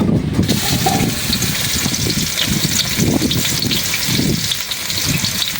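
Onions tossed into hot oil in a village kitchen pot give a loud, steady, close hiss and crackle that holds for several seconds with no pause.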